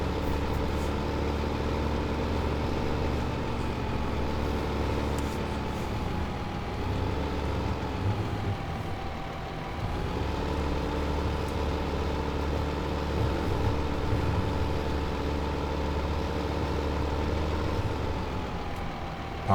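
A tractor engine idles steadily in Farming Simulator 15 while the vehicle is parked after sowing with a seed drill, a continuous low rumbling hum with a slight dip in level partway through.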